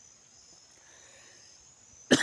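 A single short cough breaks a near-silent room at the very end, close and sudden after a faint steady hum.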